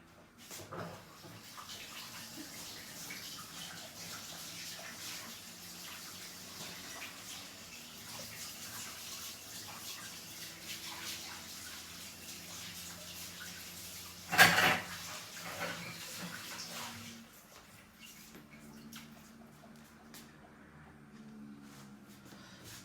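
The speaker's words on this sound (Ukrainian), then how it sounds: "Так, я помила руки." Running tap water in a home kitchen while hands are washed, a steady faint stream with a brief louder splash or knock midway before the flow stops and quieter room sound follows.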